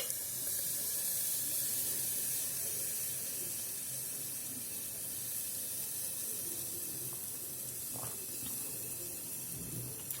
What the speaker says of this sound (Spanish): El Porex desaparece, se disuelve por completo. No sé si podéis oír el crepitar.